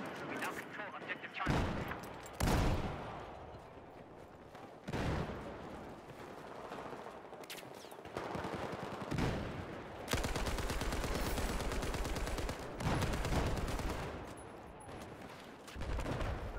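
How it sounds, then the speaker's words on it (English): Bursts of M60 machine gun fire in a first-person shooter, played as a support class on the Pearl Market map, come in repeated loud volleys separated by short pauses. "I love the M60. Why am I never playing with this gun?"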